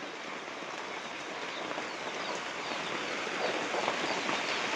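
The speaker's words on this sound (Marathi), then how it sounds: "पण आता पाऊस पडत आहे ना" Rain falls steadily outdoors near an animal shed, a dense, even hiss of drops that swells slightly louder toward the end, continuous with no voices.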